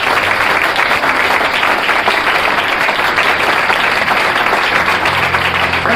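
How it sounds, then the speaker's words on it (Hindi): A church congregation claps loudly and steadily throughout, a dense continuous wall of applause. "एक जोरदार ताली प्रवेश कीजिए"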